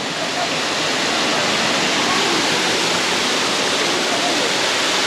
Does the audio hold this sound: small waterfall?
yes